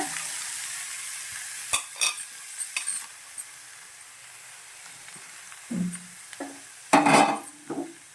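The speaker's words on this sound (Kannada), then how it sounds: "ಬೀನ್ಸ್ ಒಂದು ಸ್ವಲ್ಪ ಕೈ ಆಡ್ಸೋಣ" Chopped beans stirred in a frying pan with onions, a spoon scraping in short bursts over a low, steady sizzle, with a few louder clatters near the end.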